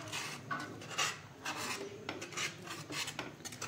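Ground moong dal stirred in ghee in a pan for halwa: soft, repeated scraping and rasping strokes of a spoon against the pan, fairly quiet and rhythmic.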